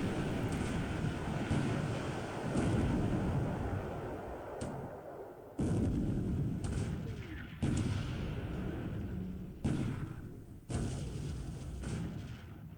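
Naval gunfire and 4-inch and 12 cm shell hits in the wargame War in the Pacific: a dense, continuous roar of artillery-like booms, with sharp new blasts cutting in every second or two, loud and with no talk.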